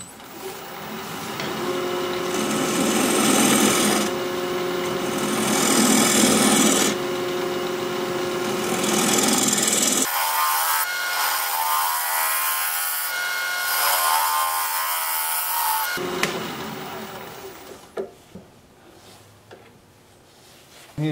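Half-inch bowl gouge cutting a Siberian elm bowl on a wood lathe, a loud continuous rasping shave with shifting tone through most of the stretch, easing off near the end.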